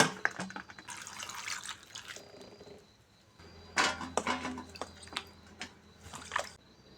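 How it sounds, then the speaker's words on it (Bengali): Tomatoes are washed in water, with bursts of splashing and running water, a pause, then more sloshing and handling sounds, fairly quiet and close. "প্রথমে টমেটো ভালো করে ধুয়ে কেটে নেব"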